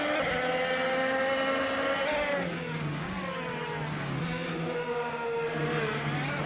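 A 2018 Honda IndyCar engine in a racing video game holds a loud, continuous high-pitched whine, its pitch dipping and climbing through gear changes and throttle shifts for the full stretch.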